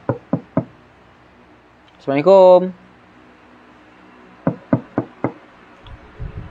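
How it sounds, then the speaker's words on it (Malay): Knuckles rapping on a house door at night: a quick set of three knocks, a brief spoken greeting, then another group of four knocks, close and crisp against a quiet background. "si Auza ni pun ketuk lah pintu"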